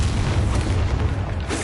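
A sustained, roaring fiery blast from the Incendio fire spell in Hogwarts Legacy, loud and dense with a rumbling low end and no speech.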